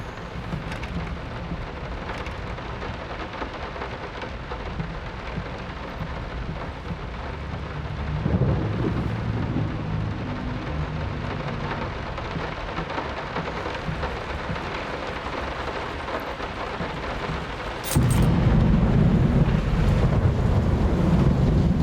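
Thunderstorm with heavy rain in the horror game Layers of Fear Remake, a steady wash of rainfall with low rumbling thunder that swells louder midway and again near the end.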